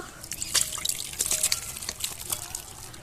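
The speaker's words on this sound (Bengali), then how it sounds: "মাংসটা আমি ঢেলে নেব।" Duck meat curry with a thin gravy is poured out of the cooking pot, giving close, wet sloshing and dripping splashes in uneven bursts with no talk.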